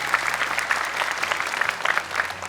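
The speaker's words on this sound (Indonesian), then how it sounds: "Tepuk tangan juga dong untuk Kak Nabila" Audience clapping in a studio at an Indonesian Quran memorization TV competition, a dense, even burst of applause held for a couple of seconds, close and moderately loud without talk.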